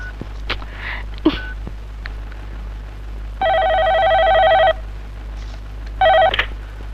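A telephone rings in two electronic bursts that go unanswered, separated by a pause, with faint footsteps and small room noises between the rings.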